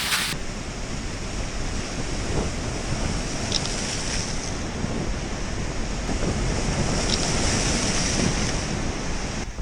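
Sea waves splash and surge continuously along the shore beside a hotel in Paphos, Cyprus, a close, steady roar of surf with wind buffeting the microphone throughout and no voices.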